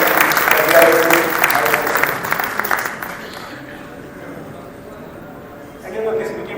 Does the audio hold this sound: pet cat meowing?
no